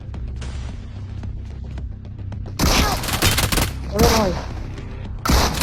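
Gunfire in the mobile battle-royale game Free Fire: loud bursts of rapid automatic shots breaking in after a quieter stretch, with a voice exclaiming briefly among them.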